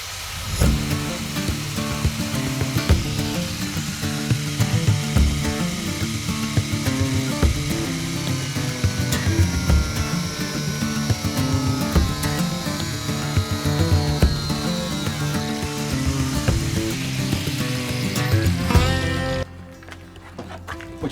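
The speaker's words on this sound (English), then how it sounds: "So I'm just going to use a standard angle grinder and a metal cutting disc." A standard angle grinder with a metal cutting disc bites into a metal bar during a campervan conversion, giving a loud, continuous grinding whine that runs steadily before cutting off near the end.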